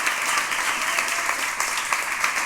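Enthusiastic applause from a crowd, a continuous bright clatter of many hands clapping at an even level throughout.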